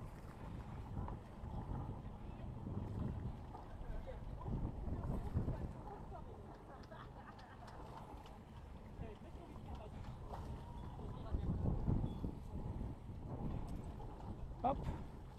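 Low rumble of a small boat engine reversing out of a harbour off the Île d'Oléron, with wind buffeting the microphone, the motor swelling and easing as the boat moves.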